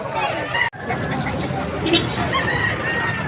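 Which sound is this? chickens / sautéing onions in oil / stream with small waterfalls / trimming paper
chickens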